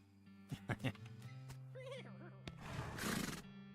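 A horse in West of Loathing whinnies in a short, wavering neigh. Soft thumps come before it, and a breathy snort follows. The sounds are quiet and close, and speech murmurs around them.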